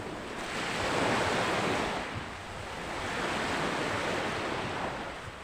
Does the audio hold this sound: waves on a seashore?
yes